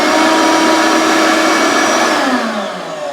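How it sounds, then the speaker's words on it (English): Shop vacuum hooked to a sand blasting cabinet powering on, a loud steady motor whine and rushing air held close, then the pitch sliding down as it winds down near the end. "it powers up your vacuum cleaner as well, so you're not having to fight and do two things at once"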